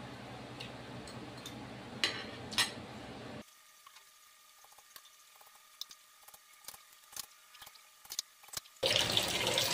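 Dishes being washed under a running kitchen tap after a meal at home, with splashing water and clinks rising at the start, a quiet stretch of faint dripping and ticks, then the tap gushing again near the end.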